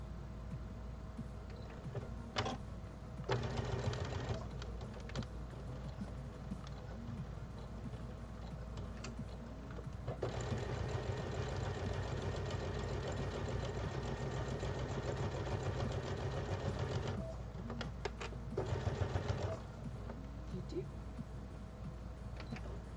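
A sewing machine stitches a fabric mask in two bursts of steady mechanical whirring, one short and one longer, separated by quieter pauses. The machine runs close by, with no voice over it.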